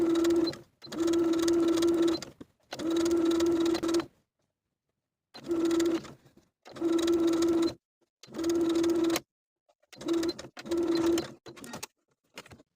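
Sewing machine understitching the all-in-one facing of a vintage drop-waist dress, running in several separate bursts of steady, even stitching separated by short pauses, close and clear with no talking.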